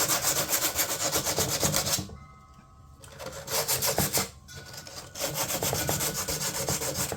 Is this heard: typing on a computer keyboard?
no